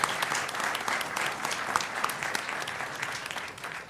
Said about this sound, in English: So have a round of applause for those wonderful athletic programs.